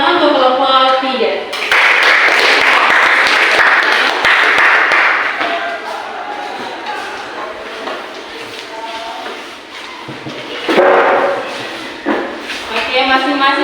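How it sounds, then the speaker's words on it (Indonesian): Classroom applause for a student group after its presentation, a burst of clapping from the class rising after a short spoken line. Talk continues over and between the clapping, which fades back to voices and returns briefly near the end. "Oke, tepuk tangan untuk kelompok 3."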